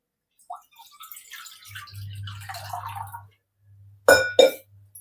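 Water from a small pot splashes into a pan set on a gas stove, a low steady pour for a second or two, then two sharp metallic clinks as the vessel knocks the pan.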